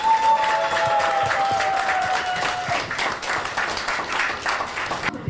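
Sustained applause from a seated audience at a Korean women's organizations policy pact signing ceremony with a presidential candidate, a dense steady wash of many hands clapping for about five seconds with a brief tone ringing over the start.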